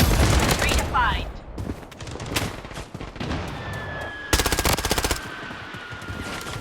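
Rapid automatic gunfire bursts from the Blood Strike battle royale game crackle loudly, with a dense opening volley, scattered single shots, and a sustained fast burst near the end over ambient game noise.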